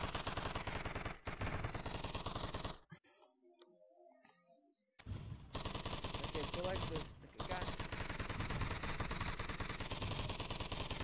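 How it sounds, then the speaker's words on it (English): Gunfire from guns in a tower defense video game crackles in dense rapid bursts, stopping briefly for about two seconds before resuming, with a voice talking over it. "I can barely hear you over the sounds of those bullets."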